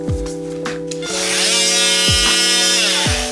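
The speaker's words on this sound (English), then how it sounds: "I got my little handheld Makita here" A small Makita cordless handheld vacuum whirs up and runs steadily with a bright, high motor whine beside a drywall repair, loud and close, with a few clicks and knocks underneath at the start.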